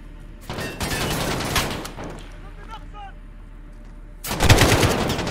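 Bursts of automatic gunfire in Call of Duty: Modern Warfare's campaign mission The Wolf's Den, a sustained volley early on, a quieter stretch with faint effects, then another loud burst near the end.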